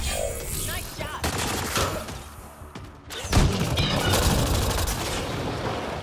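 Gunfire from the video game Mass Effect: Andromeda, rapid bursts of shots and booming impacts, then a dense, loud stretch of firing after a brief lull.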